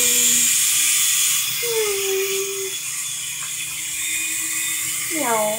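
A small RC helicopter flies indoors in a small room, its motor giving a close, thin whine that wavers in pitch and climbs sharply near the end.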